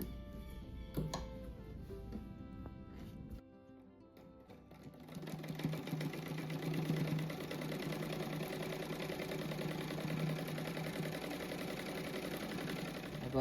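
A sewing machine stitches patchwork fabric for a star rug, starting with a few clicks and handling noises, then running in a continuous rapid mechanical whir with rhythmic needle ticking.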